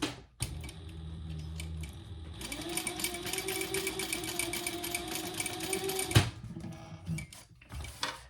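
A sewing machine topstitches fabric bag handles, running in one steady whirring burst of several seconds, with handling taps and clicks before and after, close and alone with no talking.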